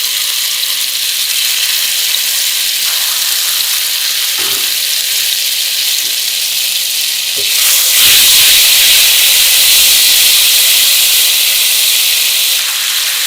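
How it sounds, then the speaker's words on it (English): Sambal sautés in a pan as a loud, continuous sizzle with occasional scrapes of stirring, swelling into a stronger, brighter hiss halfway through and staying intense to the end. "Now, saute the sambal until fragrant."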